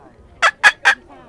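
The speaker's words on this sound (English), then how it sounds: "they've brought their beautiful cockatoo here" A pet cockatoo brought to Huai Lan Reservoir in Chiang Mai gives three short, loud, harsh squawks in quick succession, close by, with no talk over them.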